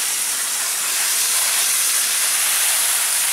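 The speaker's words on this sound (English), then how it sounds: "as you can see, once again, we're just hosing the cartridge down. I have a conventional garden hose." A conventional garden hose sprays water onto a pool cartridge filter, a steady, close, bright hiss of pressurized spray holding constant throughout with no talking.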